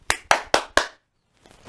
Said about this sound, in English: check if he is reactive to voice by really strongly clapping in front of his face